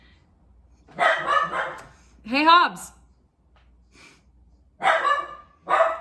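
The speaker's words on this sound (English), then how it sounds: "No barking. No barking." A dog barks in several sharp bursts, one rising into a whiny yelp, fairly close, with a person briefly speaking between barks.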